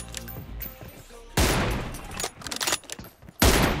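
M24 sniper rifle gunfire in a PUBG Mobile team deathmatch custom room, sharp loud shots with booming tails, one at about 1.4 seconds and another near the end, amid scattered game effects.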